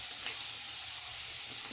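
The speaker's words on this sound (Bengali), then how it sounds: "পেঁয়াজ আর রসুনের মধ্যে দিয়ে এটা ভেজে নিলাম।" Onion and garlic frying in a pan with banana blossom, a steady close hissing sizzle that stays even and unbroken, with no voices.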